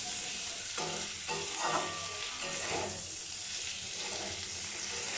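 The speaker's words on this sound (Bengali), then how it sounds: "ক্রমাগত সজনে ডাঁটাগুলো নাড়াচাড়া করতে থাকবো এবং খুব সুন্দরভাবে একটু ধৈর্য ধরে" Drumstick (moringa) pieces are stirred and fried in a pan, making a moderate, even sizzle with soft scraping and shuffling as they are turned.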